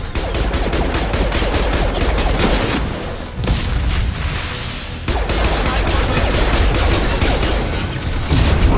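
Sustained heavy gunfire in the video game Mass Effect 2, a loud, dense fusillade of rapid shots and booms that continues almost without pause, dipping briefly twice before resuming at full intensity.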